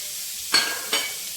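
Onions frying in a pan for semiya pulao, a brief hissing sizzle with two quick stirring scrapes.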